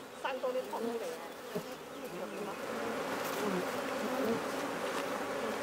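Steady buzzing of many native wild bees fills the air, a dense, continuous hum that swells slightly louder toward the end.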